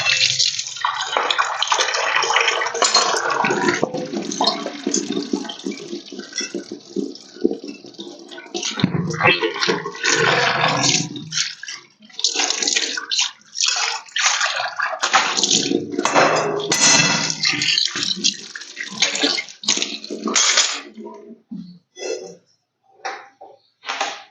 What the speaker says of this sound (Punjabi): ਹੁਣ ਵਿੱਚ ਕੜਾਈ ਆਪਾਂ ਧੋ ਲੈਨੇ ਆ